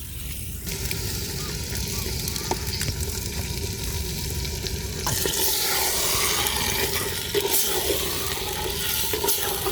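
Loud sizzling and crackling from a hot pan of mutton that surges into stronger frying as yogurt is poured in for biryani, with a voice speaking over it.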